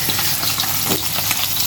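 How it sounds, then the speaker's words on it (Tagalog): Steady crackling sizzle of dalagang bukid (yellowtail fusilier) fish frying in hot oil, close and continuous with a constant hiss and occasional pops. "magprito ng dalagang bukid"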